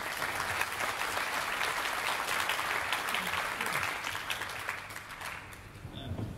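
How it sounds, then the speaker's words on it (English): A conference plenary audience applauds a panel on improving quality of life on Earth, with sustained, even clapping from a large hall heard for several seconds at moderate distance. "Let's please join me in giving the panel another round of applause."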